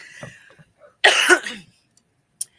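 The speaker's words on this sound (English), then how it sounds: "me coughing every once in a while" A single harsh cough, loud and close, following a short throat noise, then a brief sharp sound and quiet.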